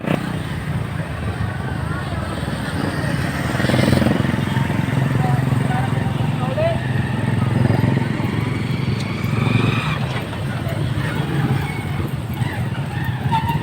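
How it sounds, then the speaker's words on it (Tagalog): Single motorcycle riding home along a street in Sindangan, Zamboanga del Norte, its steady engine drone continuous and fairly loud throughout, mixed with road and traffic noise and some voices. "Pauwi na kami mga idol sa motor namin mga idol, sa single mga idol."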